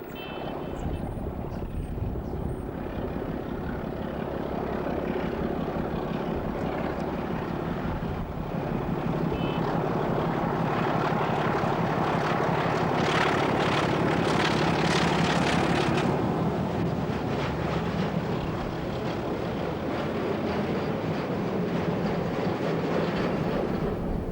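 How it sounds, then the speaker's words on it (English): A British Rail Class 25 diesel locomotive pulls away with a northbound freight of steel coils, its loud, steady engine roar building and rumbling throughout, with grinding rail and wagon noise on top and no talk. "25057 is seen departing with a northbound train of steel coils at 10 to 2 in the afternoon."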